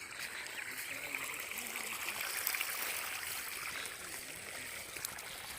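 Water running steadily while a garden is watered, a continuous soft hiss and trickle heard from close by throughout, with no talk over it.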